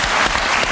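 Studio audience on a television talk show applauding, a dense, steady burst of clapping heard alone.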